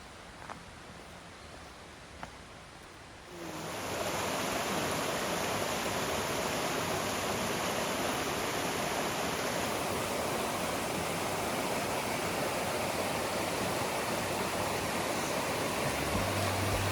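A stream feeding the Nolichucky River rushes steadily through the woods, a broad, constant wash of water that rises abruptly from near quiet after a few seconds and continues unbroken.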